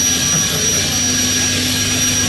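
The turbine engine of a GM Firebird III concept car roars steadily, a loud, close jet-like whine with a high tonal hum over broadband rush, sustained without a break.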